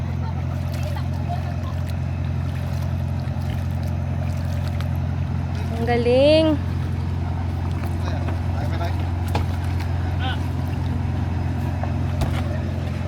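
A steady low engine drone runs throughout, like a boat motor idling, with a person speaking briefly and a short whistle-like rising tone midway.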